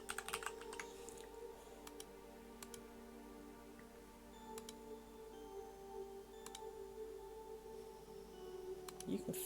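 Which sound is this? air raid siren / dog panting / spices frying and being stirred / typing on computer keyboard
typing on computer keyboard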